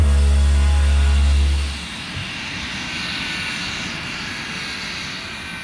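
A Hawker Hunter jet of the Oris Swiss Hunter team roars past close by, loud and booming at first, then quickly fading into a broad, distant rushing drone.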